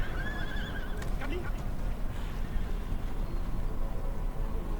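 War horses whinny in an Empire: Total War battle, with a wavering neigh early on and a few scattered clops over a steady, dense rumble of battlefield noise.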